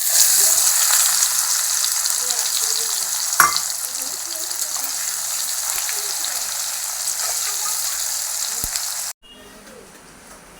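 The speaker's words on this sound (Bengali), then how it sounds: "পেঁয়াজটা ভাজা ভাজা হয়ে গিয়েছে" Chopped onions frying with garam masala and whole cumin in a pan, a loud steady sizzle with occasional stirring knocks, heard close up until it cuts off abruptly near the end.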